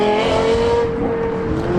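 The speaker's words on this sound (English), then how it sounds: "The LFA we saw depart inside the show is now leaving outside the show with its chrome wheels." A Lexus LFA supercar on chrome wheels pulling away from a car show, a loud high-pitched engine note that holds steady and then begins to fade as the car leaves, with no talk.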